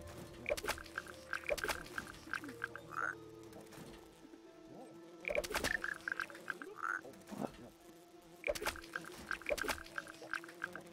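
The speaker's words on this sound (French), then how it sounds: "Le crapaud fait des trucs" Toad croaking in the video game TOHU, recurring in three bursts of clustered croaks roughly every three seconds over a soft ambient game background, with no talk.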